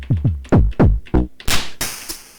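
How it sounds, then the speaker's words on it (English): Modular synth drum module playing the Rotterdam kit: a run of punchy electronic kicks with falling pitch, then bright noisy hits like snare or clap, loud and close, with no talk. "There we go, there's our 7 drums. We're on the Rotterdam kit."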